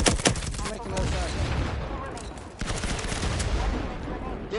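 Dense, continuous gunfire from a Firewall Zero Hour match, with rapid overlapping shots and bursts filling nearly the whole stretch at close range, a brief lull midway before the barrage resumes.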